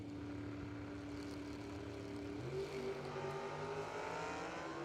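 A drag race car, a Monte Carlo, runs down the drag strip at a bracket racing event, a steady far-off engine drone whose pitch shifts midway as it pulls away, heard alone and distant.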